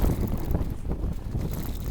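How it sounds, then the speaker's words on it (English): Strong wind buffets the microphone along an open roadside on a Continental Divide Trail thru-hike, a continuous loud, rumbling roar with gusty surges and no voices. "It's still so windy."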